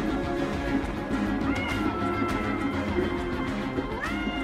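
A pet cat meows a few times, drawn-out rising calls heard indoors over steady background game music.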